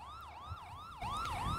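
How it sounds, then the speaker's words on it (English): A police car siren wails in a steady rising-and-falling pattern, loud and close, jumping even louder about halfway through in a police roleplay game scene, with no talk over it. "Whose siren is blaring?"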